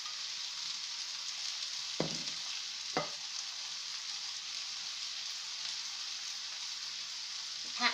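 Broccoli, sugar snap peas and spring onions stir-frying for chicken chow mein, with a continuous soft sizzle in the pan and a few sharp knocks of the spatula against the pan.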